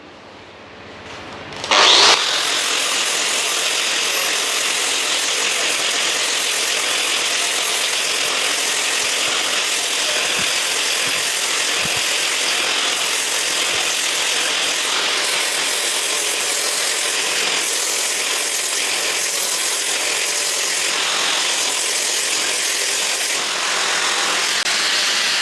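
A ceramic flap disc on an angle grinder bites into the steel corner of an anvil, rounding a radius. After a quiet start it jumps to a loud, steady, close whine and rasp that holds unbroken.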